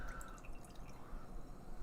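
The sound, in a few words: sour ale being poured into a glass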